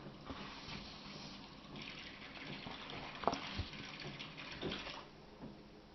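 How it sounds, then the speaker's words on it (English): Warm water runs and sloshes into a kitchen sink as strips of tape are laid in to soak, a steady close wash of water with a few small splashes and clunks, no talking. "just some warm water in the sink, and I'm laying these in the warm water just to soak up some of that water"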